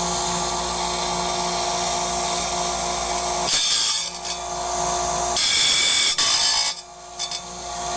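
A sharpener grinds a single tooth of a 40-tooth carbide-tipped saw blade, giving a steady abrasive hum with two louder, brighter grinding bursts near the middle and end, with no one talking.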